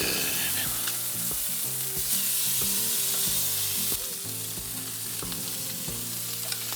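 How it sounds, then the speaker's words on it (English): Bacon sizzles and crackles steadily in a pan in a cafe kitchen, a close, continuous frying hiss with occasional louder pops. "That bacon smells good."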